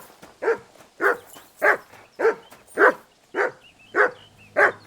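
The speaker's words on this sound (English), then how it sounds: "Yes, thank you, dog. You can quit yelling." Dog in Kingdom Come Deliverance II barking in a steady, evenly spaced series of eight loud, close woofs, each short and gruff, with no talking.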